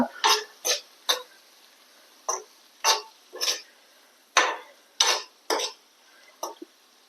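A spoon scrapes and clinks against a pan while stirring sausage and tomato ketchup, about a dozen separate, close strokes in an uneven rhythm with quiet gaps between them.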